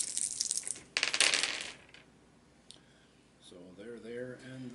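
Dice clatter during a Warhammer Quest: Silver Tower board game. There are two loud, close bursts of rattling and tumbling, then quieter clicks, and a voice talks near the end.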